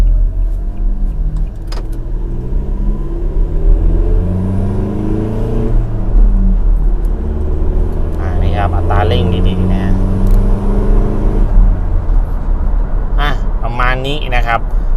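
A Toyota Revo 2.4 diesel pickup hums and rumbles steadily from inside the cab while driving, a low continuous engine drone with someone talking over it throughout.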